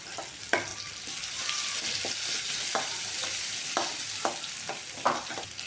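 Onion and curry leaves frying in oil for a tempering, a steady close sizzle with a few sharp spatula scrapes and taps against the pan, no voices.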